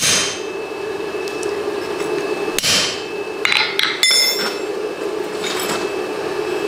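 Sharp hammer blows split a length of rebar over a cutoff hardy on an anvil, a few loud metallic strikes spaced irregularly over a steady hum, with no talking.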